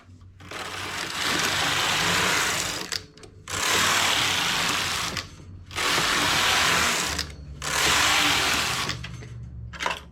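Carriage of a knitting machine making rows on a ribbed adult trouser piece, four long whirring mechanical passes with clattering gear noise, separated by short pauses.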